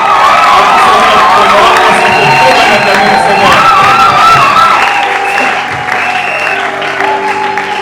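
Church congregation at a pastor's ordination service acclaiming and cheering: a loud, continuous wall of clapping, shouting and whooping voices from a large crowd, sustained throughout and easing slightly toward the end.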